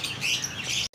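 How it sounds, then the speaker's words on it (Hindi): Caged birds in a Hyderabad bird shop chirp and tweet in a dense, continuous chorus of high calls, close and fairly loud, cut off abruptly near the end. "ये सारे बर्ड रखे हुए हैं"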